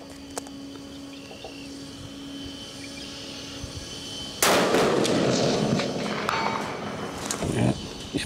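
A single rifle shot with 105-grain Hornady hand loads cracks out loud and sharp after a quiet stretch of outdoor ambience, then rolls away in a long echo across the range. Someone speaks faintly around it.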